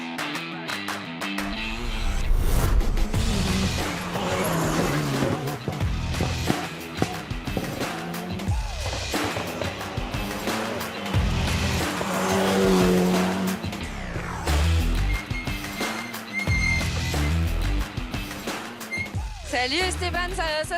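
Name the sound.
Alpine A110 RGT rally car driving on a special stage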